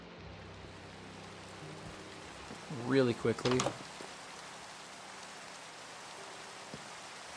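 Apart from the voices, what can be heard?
rain falling in the video game Minecraft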